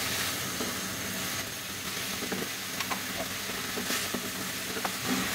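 Sauce with vinegar stir-fried in a pan over high heat for chilli garlic noodles gives a steady, close sizzle, with occasional spoon scrapes and clinks over the hiss.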